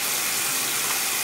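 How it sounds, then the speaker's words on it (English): Steady running water from a tap rinses cleanser off the face, a continuous close gush with no pauses over the short stretch. "I'm just gonna rinse it off."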